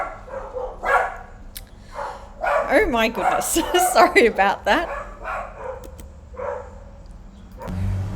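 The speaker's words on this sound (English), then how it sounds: "a little barking fits over there" A dog lets out a few short barking bursts in the middle while a person talks over it and apologizes afterward.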